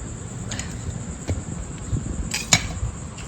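A few sharp knife taps on a cutting board as vegetables are chopped in a home kitchen, sparse close knocks over a faint steady background hum.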